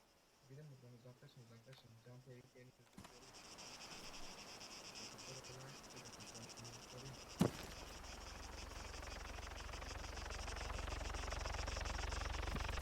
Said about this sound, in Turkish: Helikopter yaklaşıyor.